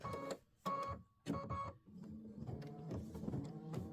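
An Aveneer embroidery machine stitches a Boo Manor tiling scene tile, giving a quick series of sharp mechanical bursts that settle into a steady, fast rhythmic chatter, close and fairly quiet.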